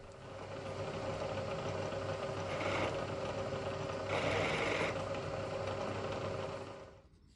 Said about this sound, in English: I'm just going to be boring this down maybe 300 thousandths of an inch.